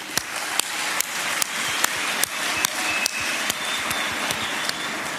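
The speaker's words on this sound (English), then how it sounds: "I want you to give them a round of applause." Applause at a DA Free State rally breaks into regular rhythmic clapping, one sharp beat about every 0.4 seconds over dense crowd noise, with a thin whistle partway through.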